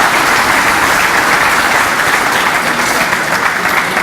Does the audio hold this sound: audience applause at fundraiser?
yes